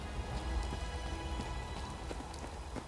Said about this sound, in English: it's raining a little bit, much as it is here today